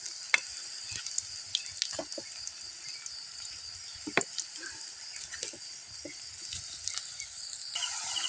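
A banana heart omelette fries over a wood fire, giving a steady, quiet sizzle with scattered crackles and pops throughout, with crickets or other insects buzzing in the background and no talk.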